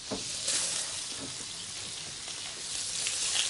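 Red onions, ginger, curry leaves, green chilies and garlic frying in a pan for a South Indian goose stir-fry, a steady soft sizzle throughout with faint stirring.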